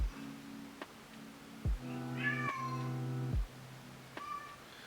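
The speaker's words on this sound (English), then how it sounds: "I don't know if you can hear my cat going off in the background" A pet cat named Baloo meowing repeatedly in a room, several drawn-out, wavering meows in a row, moderately close and clear over a quiet background.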